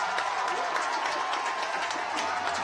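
A roaring high school football crowd, Cumberland Valley against Central York, cheers after a big play: a dense, steady wash of shouting and clapping that holds at full strength throughout.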